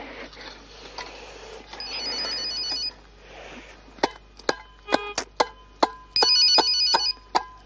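Mobile phone ringing outdoors during a metal-detecting dig, bursts of a bright electronic ringtone repeating in short pulses, mixed with sharp close knocks and clicks between rings.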